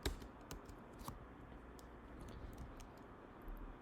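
Someone types code on a computer keyboard at a desk. The keystrokes are faint and irregular, tapping over a quiet background.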